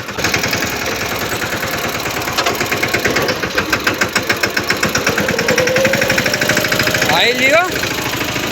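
Close and loud, a tractor engine thumps in a steady, rapid beat, with a rising whine near the end and a person speaking briefly over the running motor.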